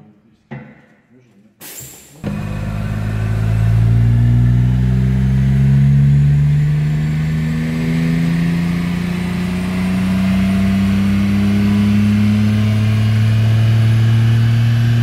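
A car engine on a dyno, fitted with a 3 inch downpipe, revs up loudly after a brief quiet start and holds a sustained, rising, droning pull, with some talk mixed in.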